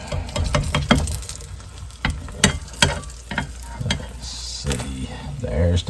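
An egg and cheese fajita sizzles in a frying pan while a spatula scrapes and knocks repeatedly during the flip, close and steady, with irregular clattering hits over a continuous frying hiss.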